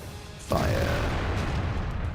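A single loud tank cannon shot in the World of Tanks game, a sudden boom followed by a lingering rumbling tail over steady engine noise.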